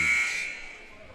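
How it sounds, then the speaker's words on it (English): A basketball game buzzer at a high school girls' game sounds once, a loud, sharp electronic tone that starts at full strength and fades over about a second, with faint voices behind it. "Here's a buzzer for our final 51 seconds."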